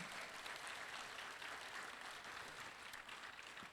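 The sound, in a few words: round of applause for speaker at symposium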